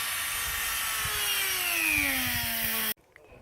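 A Dremel rotary tool sands the edge of a hole cut into the bodywork of a Ford Fiesta ST. Its loud, close, continuous whine slowly drops in pitch under load, then cuts off abruptly, leaving near silence.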